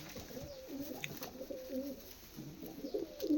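A red-tailed Laldhoma pigeon coos in soft, repeated throaty phrases, fairly quiet and close, with no talking over it.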